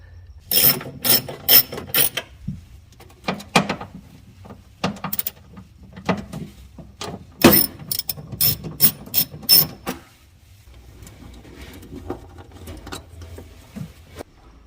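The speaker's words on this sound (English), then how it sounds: "remove these two 10mm bolts here that hold the tail lamp in" A hand ratchet backs out the two 10mm bolts holding a Miata tail lamp, making bursts of quick, close clicking and ratcheting with short pauses between strokes and no voices.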